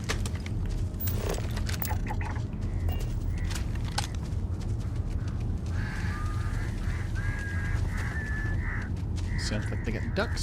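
Ducks or geese honk in the video game Starfield, several calls scattered through the second half over a dense, loud ambient background.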